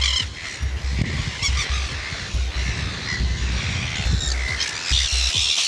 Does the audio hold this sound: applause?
no